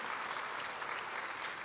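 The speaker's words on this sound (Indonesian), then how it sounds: "Boleh kita berikan tepuk tangan buat Tuhan?" Congregation applauding during a church sermon, a soft, even wash of many hands clapping, fairly faint and distant, with no talking over it.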